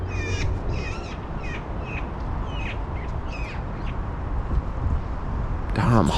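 Several birds caw in a string of harsh repeated calls over a rough noisy background, followed by a burst of a different sound near the end.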